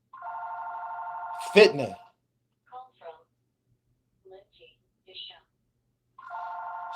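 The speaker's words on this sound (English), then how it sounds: "This fucking phone is getting on my fucking nerves." An electronic telephone rings in a steady buzzing tone, cuts off while someone speaks briefly, and then starts ringing again near the end after a few short spoken words.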